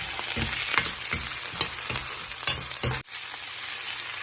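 Onions and green chillies sautéing in a pan for rava kichadi, a steady close sizzle with rhythmic stirring scrapes, a brief sharp break, then the sizzle continuing; no talking.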